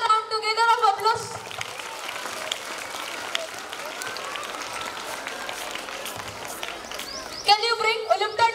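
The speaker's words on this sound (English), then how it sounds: "A round together of applause." Applause from a school audience at a skill show fills the hall with steady, dense clapping, framed by a voice speaking at the start and again near the end.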